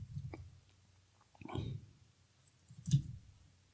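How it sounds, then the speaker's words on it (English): Computer keyboard keys pressed while coding in Rust, a few scattered soft clicks and taps close by in a quiet room, spaced irregularly, with no talking. "I'm pressing the keyboard shortcut that should offer me to fill in the match arms"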